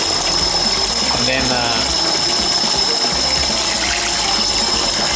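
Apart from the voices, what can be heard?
cold water pouring into a container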